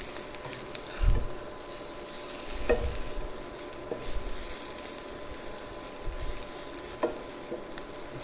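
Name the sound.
capsicum, onion and chili sautéing in a pan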